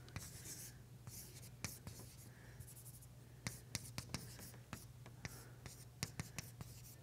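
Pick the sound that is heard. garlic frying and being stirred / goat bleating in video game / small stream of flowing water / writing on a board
writing on a board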